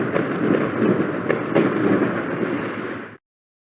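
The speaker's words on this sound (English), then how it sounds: "it's time for some fireworks." Fireworks sound effect played during a live football match-day show: loud, dense crackling and booming bursts run continuously for about three seconds, with a couple of sharper pops, then cut off abruptly into silence.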